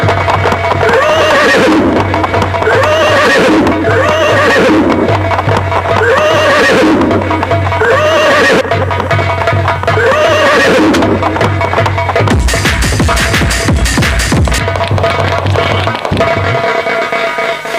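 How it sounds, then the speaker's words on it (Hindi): A king's horse enters a palace in a Hindi folk drama. Loud whinnies repeat in a steady cycle over a low drone, then a burst of clattering hooves follows near the end. "महाराज का घोड़ा महल से प्रवेश कर चुका है।"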